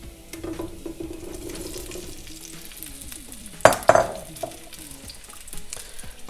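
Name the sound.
cherry tomatoes added to a hot sauté pan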